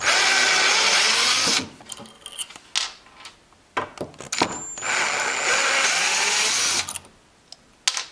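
A power drill backing out small screws from a concealed soft-close cabinet hinge, two sustained whirring runs with short stops, clicks and handling noises between them, close by.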